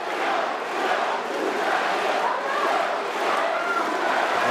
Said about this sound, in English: And the crowd tries to lift their team, tries to unsettle the Satarossa.